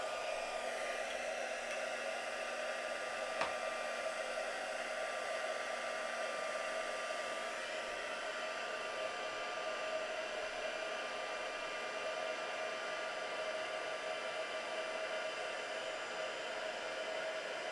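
A heat tool blows hot air over embossing powder during a mixed-media craft demo, giving a steady, even whirring hiss that holds constant throughout with no talking.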